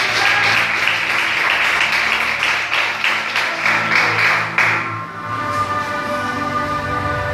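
A church congregation claps to glorify God during a service, loud rhythmic applause filling the room for about five seconds before giving way to a sustained tonal hum.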